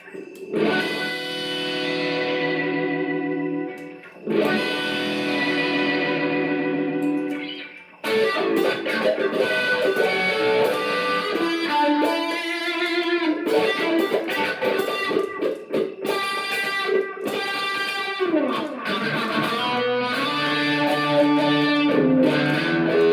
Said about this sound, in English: Distortion with wah